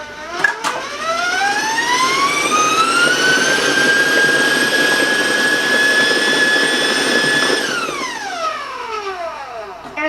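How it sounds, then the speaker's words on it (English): An electric mixer runs at high speed through cake batter for chocolate chip plum mini cakes, its whine climbing as it speeds up, holding loud and near, then dropping away as it is switched off. "It really depends on the mixer you're using."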